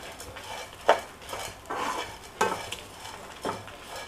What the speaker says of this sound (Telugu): శనగపప్పు మినప్పప్పు ఇవన్నీ కొంచెం తక్కువ వేసుకున్నాం అంతే కొంచెం సేపు వేగాలండి